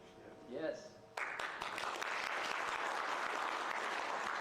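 An audience breaks into sustained applause at a political talk on the Tibetan government in exile, the clapping starting abruptly after a brief voice and continuing loud and dense throughout.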